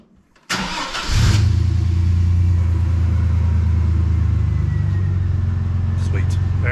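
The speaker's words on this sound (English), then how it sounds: "Go ahead and fire it up, Luke, just make sure." Chevy S10 pickup engine cranking and firing up after a fuel pump replacement, then settling into a loud, steady idle rumble close by.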